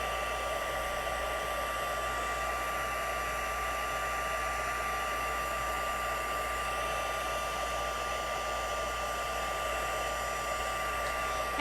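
A heat tool blows a steady, loud, continuous hiss throughout while melting embossing powder for a color blocking craft technique, with no breaks or talk.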